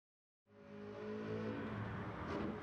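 A 2014 Chevrolet Corvette Stingray C7 in Gran Turismo 7 on the Nürburgring, tuned, its engine fading in from silence to a steady, fairly quiet drone as it drives, alone with no voices.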